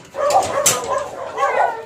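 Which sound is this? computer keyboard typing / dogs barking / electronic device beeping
dogs barking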